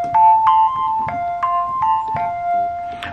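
Electric piano voice from GarageBand on an iPhone playing a short run of sustained keyboard notes, clear and close, alone with no talking.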